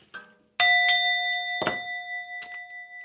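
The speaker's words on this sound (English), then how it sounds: "I'm going to be ringing the bell I don't know how many freaking times." A bell is struck twice, each ring sharp and loud with a clear sustained tone that slowly decays, followed by a few faint knocks.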